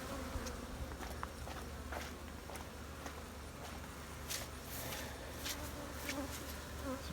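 Honey bees buzzing steadily and angrily as their hives are relocated in an apiary, a continuous close drone of many insects with no talking over it.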